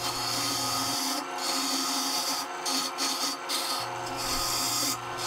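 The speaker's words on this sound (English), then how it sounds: "I tried three different bowl gouges just to find the one that seemed to be best suited for getting all this wood out of the middle of this lampshade" Bowl gouge hollowing the inside of a log lampshade spinning on a wood lathe, a continuous raspy scraping hum with a low motor drone that drops out and returns, plus brief breaks in the cutting noise.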